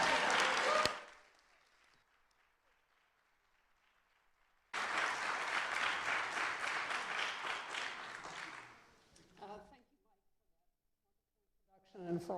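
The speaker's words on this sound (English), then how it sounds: "So please welcome and give a warm round of applause for Ivy Bottini and Judith." An audience at a talk applauds warmly, a burst of clapping at the start, then a sustained round of applause for several seconds that fades, with brief speech between.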